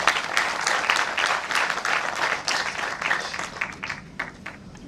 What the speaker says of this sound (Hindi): ताली तो बनती है भाई।